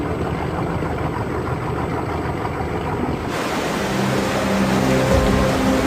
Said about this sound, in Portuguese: Os rebocadores deixam a doca.